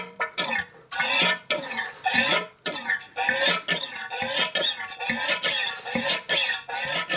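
A motorcycle fork is pumped by hand to drain its water-tainted oil, giving a run of wet, squelching strokes with short gaps between them, close and fairly quiet.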